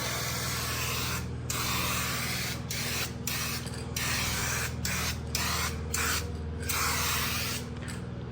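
Aerosol paint cans hissing as a truck fender is sprayed, continuous loud close spray broken by short pauses between passes, with a steady low hum underneath.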